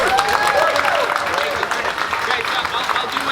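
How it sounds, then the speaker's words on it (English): Applause and cheering from a crowd, loud and steady throughout, with voices calling out and whooping above the clapping. "let's give a round of applause for the man"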